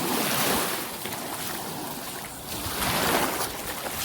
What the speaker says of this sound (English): I love the sound of, you know, water hitting the shore.